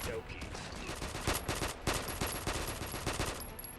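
Rapid gunfire bursts in the Combat Master mobile first-person shooter, a dense, sustained fusillade of repeated shots with a few louder cracks, heard without speech.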